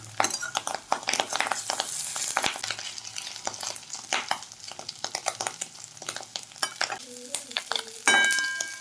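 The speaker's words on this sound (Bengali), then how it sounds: "মাছের ডিমের বড়াগুলো উল্টে পাল্টে ভেজে নেব" Fish roe fritters sizzle in a pan while a utensil repeatedly scrapes and clinks against the metal, turning them in an uneven rhythm.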